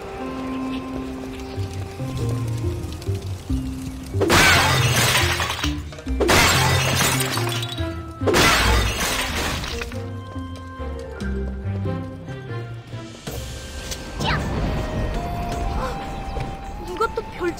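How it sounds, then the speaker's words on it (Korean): Pottery shatters in a potters' workshop in the video game Blade & Soul: three loud, separate crashes a couple of seconds apart over a soft tonal backdrop. "별채에서 도자기 깨지는 소리가 들리면"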